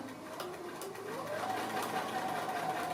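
A sewing machine motor spins up and hums steadily while stitching through a strip-pieced placemat at a slightly longer stitch length, its pitch rising then holding, close and moderately loud.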